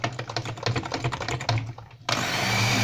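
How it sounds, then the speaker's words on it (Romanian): An electric kitchen mixer whirs loudly through loaf cake batter with flour and baking powder, with a rattling, pulsing rhythm, then shifts abruptly to a steadier, higher whine. "care o vom incorpora cu mixerul"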